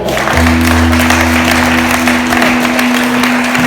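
A church congregation applauds loudly and steadily to acclaim the Lord during a worship service, the thick wash of clapping carried over sustained, droning musical tones.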